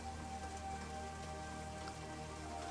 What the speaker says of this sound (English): apparently it is now raining